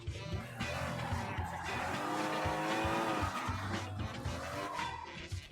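A bus careens wildly through the streets in Sleeping Dogs, its engine roaring steadily while tires squeal and skid in long drawn-out screeches, loud and continuous with no voices.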